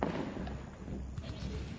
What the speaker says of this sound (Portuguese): Olha só, aqui vários tiros